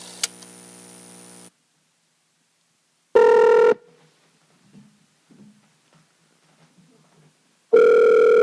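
A phone call ringing out to a co-host in Indiana, dialed with a country code: two loud, steady ring tones separated by long gaps, with faint small handling noises in between.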